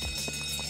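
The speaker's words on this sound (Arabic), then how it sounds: "مين شغل الإنذار؟" A hotel fire alarm rings loudly and continuously with a harsh buzzing tone and rapid pulsing, alone in a very short burst.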